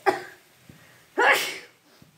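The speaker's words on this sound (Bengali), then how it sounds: "হাঁচি আসবেই, কিছু করার নেই।" A loud, close sneeze from a cook tempering chilli in hot oil for a fish curry, with a short sharp sniff before it and quiet kitchen background after.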